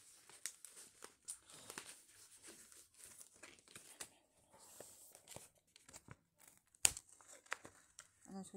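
Paper stickers being pressed into and peeled from a notebook, giving soft crinkling and tearing rustles with one sharp rip near the end, close and quiet, mixed with low talk.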